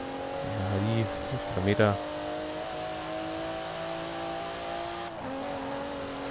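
A car engine revs and hums steadily during a night street race in Forza Horizon 4, with a brief surge of acceleration early on, sitting under a voice talking.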